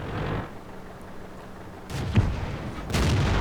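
Tank cannon fire in World of Tanks from an M4 Sherman firing high explosive rounds: a muffled report followed by two heavier booming shots later, each with a brief rumbling tail.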